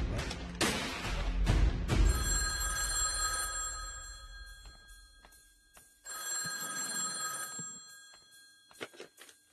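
A telephone bell rings in two loud bursts with a pause between, following thuds and a brief voice at the start, in an action scene from the Telugu film Mr. Bachchan.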